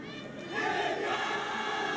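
A football crowd at a Nepal vs India women's international friendly roars and cheers, starting quieter and then swelling into a sustained, far-off wash of voices that stays loud to the end.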